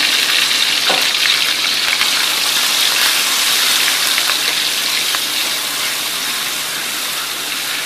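Clams fry in vegetable oil over medium heat, giving a dense, steady sizzle and crackle close up with occasional sharper pops, continuous throughout.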